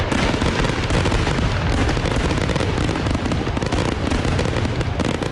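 A steady, dense barrage of fireworks crackles and booms continuously for an Independence Day celebration, loud and unbroken throughout.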